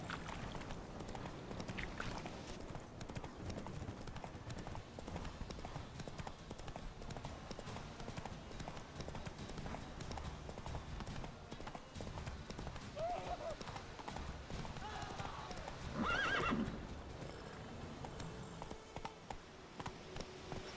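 Roach the horse from The Witcher 3 gallops steadily, hoofbeats drumming throughout at moderate loudness, with a brief neigh partway through and a voice speaking now and then over the clatter.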